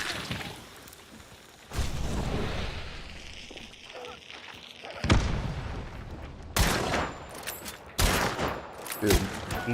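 Gunshots in the Hunt: Showdown video game, several loud sharp reports fired at uneven intervals across the clip, over a low ambient background.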